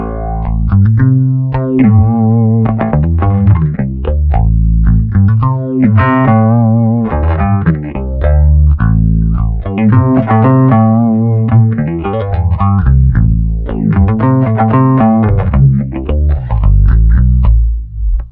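A heavily processed electric guitar through an effects pedal with distortion, chorus and modulation, playing a continuous loud, shimmering line for the whole stretch.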